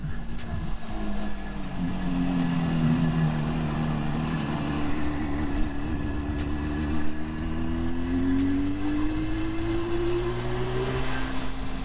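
A 1977 Suzuki GT250 twin two-stroke motorcycle fitted with Micron exhausts, ridden at steady speed, its engine note droning and rising and falling through revs, loud and continuous from close by, with wind rush throughout.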